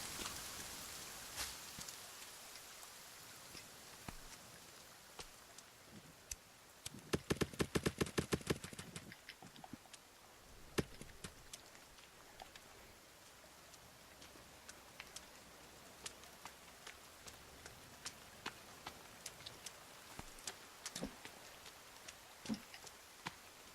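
Rain in the survival game The Forest: a soft, quiet patter of drops with scattered sharp ticks, a denser burst of clicks near the middle, and faint talk.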